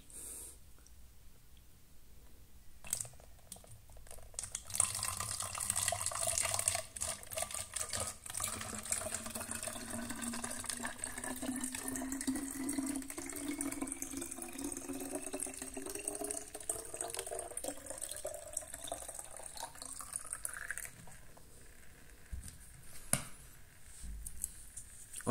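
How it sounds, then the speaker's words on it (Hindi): Water pours from a tap into a plastic bottle, the gurgle rising steadily in pitch as it fills, close and fairly quiet. "सुराख करने के बाद बॉटल को पानी से फिल कर लें।"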